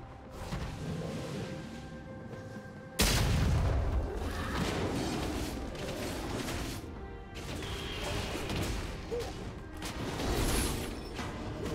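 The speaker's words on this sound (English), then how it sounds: "Team's turret has been destroyed." In a League of Legends match, a turret is destroyed with a sudden loud crash and boom, followed by rumbling, clattering debris and layered game effects that continue at a steady, busy level.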